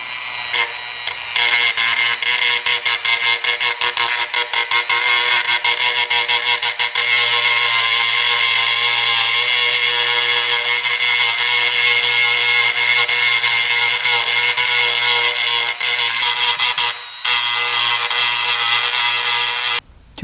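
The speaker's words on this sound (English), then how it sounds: "We've got our little Dremel tool here. Just gonna try to take off a little bit at a time." A small Dremel rotary tool trims a UTV engine part a little at a time, giving a steady high-pitched grinding whine that runs almost continuously and close up, with one brief break near the end.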